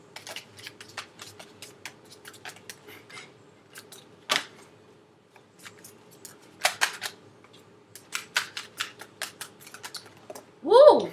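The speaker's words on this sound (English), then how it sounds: "I'm going to do 2 more shuffles." Tarot cards being shuffled by hand, a string of crisp papery riffles and snaps, irregular and close, with quiet gaps between bursts and a brief vocal sound at the end.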